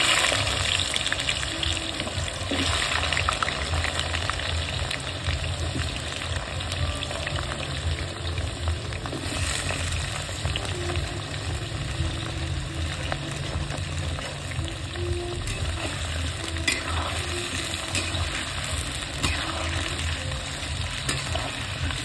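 Food frying in hot oil, steady broadband sizzle and crackle running continuously with a low bubbling undertone, close and fairly loud, no voices.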